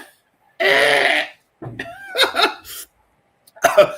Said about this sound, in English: was coughing